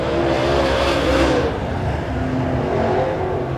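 Late model stock cars racing side by side through turns at Springfield Raceway, engines roaring loud and continuous with a swelling pass that fades slightly as they move on.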